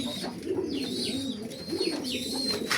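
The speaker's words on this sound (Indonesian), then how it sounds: "Ini betina kolong dari tim Sentosa Kroya ya, punyanya Pak Degiman." A female kolong pigeon gives soft, rolling coos, repeated several times close by.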